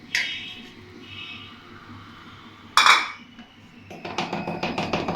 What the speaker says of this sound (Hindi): मैदे और बेकिंग पाउडर को आपस में मिक्स करके हमने अच्छी तरह से छान लेना है।